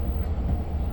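A Long Island Rail Road train running between Oyster Bay and Jamaica, heard from inside as a steady, loud low rumble with continuous rolling noise and no talk.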